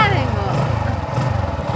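A new motorcycle's engine runs close by in Jaffna with a low, steady pulsing rumble, while someone talks over it throughout.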